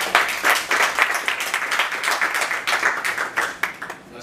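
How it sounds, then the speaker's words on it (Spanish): Audience at a sustainable-development finance panel talk bursts into applause to welcome the speakers, a dense patter of clapping from a modest crowd that holds steady and tapers near the end. "pido un fuerte aplauso para recibirlos"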